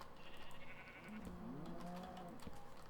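A sheep bleats in the Minecraft modpack Insanecraft, a single wavering bleat held for about a second over a steady low background hum, close and clear.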